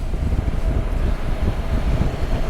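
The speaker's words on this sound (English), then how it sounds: "It's getting very windy down there now." Strong wind buffets outdoors by a bridge, a loud, dense low rumble that roars continuously without pause.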